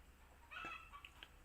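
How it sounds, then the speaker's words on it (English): Chickens cluck outdoors, heard through open windows as a few short, moderately faint calls at a distance, with no talking over them. "The windows are open and the chickens are being noisy."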